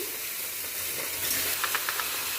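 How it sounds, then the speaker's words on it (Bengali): Pieces of bottle gourd dropped into a hot wok set up a steady, bright sizzle and hiss, heard close and continuous with a few crackling pops near the end. "কড়াটা গরম হয়ে গেছে, এবার আমি লাউটা দিয়ে দিচ্ছি"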